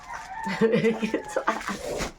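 A rooster crows in a drawn-out call, fairly close, with voices chattering around it.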